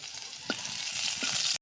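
Chopped onions frying in hot oil in a home kitchen, a steady close sizzle with a couple of soft stirring scrapes, cutting off abruptly at the end.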